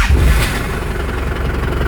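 A Nissan Terrano 5-speed diesel engine cranks and catches, settling into a loud, steady, close rumble with heavy low-end knock and no speech.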